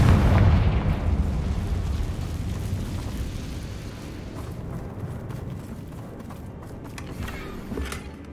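A Confringo fire spell in Hogwarts Legacy bursts with a heavy, booming explosion that opens loud and rolls into a long, fading rumble with faint crackling debris.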